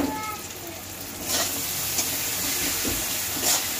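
Ground spices with red chili powder sizzling in hot oil as they are stirred in a pan, a steady close frying hiss with a few spatula scrapes and bursts.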